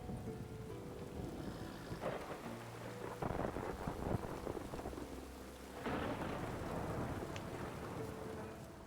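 A thunderstorm in The Witcher 3 near Kaer Morhen, with steady rain pattering on surfaces and deep rolls of thunder swelling twice, the second rumble heavier and lasting to the end.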